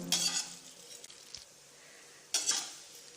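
Vermicelli roasts dry in a pan while a spoon stirs it, bringing two short bursts of scraping and rustling with a soft clink between long quieter stretches, close and fairly faint.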